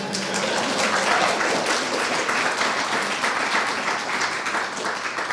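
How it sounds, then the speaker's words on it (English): An audience at a community talk breaks into steady, even applause from many hands that holds at a constant level for several seconds with no voices over it. "So a little bit of applause for my friend Craig here."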